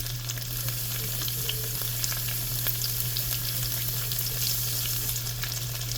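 Yaki udon stir fry ingredients frying in a little oil, a strong, steady sizzle heard close up, with a low constant hum beneath and no voices.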